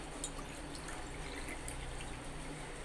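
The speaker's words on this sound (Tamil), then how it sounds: "அதனால் இதில் 2 கிளாஸ் தண்ணி ஊற்றிக்கலாம்." Water pours steadily onto rice in a pot, a continuous trickling and filling sound with faint splashes, close by and without talk.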